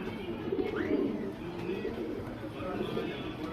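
A pair of makshi pigeons coo softly nearby in low, repeated throaty calls, with faint background noise.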